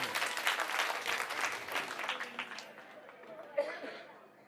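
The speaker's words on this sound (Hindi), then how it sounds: "एक बार जोरदार ताली अपने लिए बजाइए सब लोग" Audience at a political rally in Burari, Delhi applauding loudly and steadily, a dense wash of clapping with some crowd chatter that fades toward the end.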